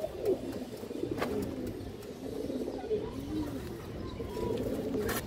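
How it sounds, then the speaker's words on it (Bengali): A medium-sized female China khaki pigeon coos in a steady run of soft, throaty calls, repeated close by over a low background murmur. "মিডিয়াম সাইজের কবুতর দর্শক"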